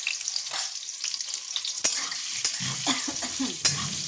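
Pieces of mango sizzle and fry in a pan, with repeated scraping stirs and clacks of a utensil at close range, no voices.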